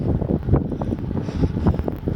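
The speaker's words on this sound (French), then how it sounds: "Vent de face." Strong headwind buffets the microphone of a cyclist riding slowly along a main national highway in Morocco during an ultracycling race, a steady low roar without pause and no voices.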